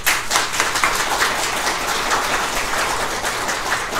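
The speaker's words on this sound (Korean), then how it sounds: "박수 한번 보내주십시오" An audience at a press-center seminar applauds, with dense, steady clapping that holds at an even level for the whole stretch and no voices over it.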